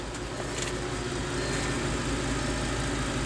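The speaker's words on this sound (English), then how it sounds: "I'm gonna leave the engine on so you can hear it when I get out of the car" A 2007 Audi S6 Quattro engine idles with a steady, even low rumble, close and continuous, with no talk over it.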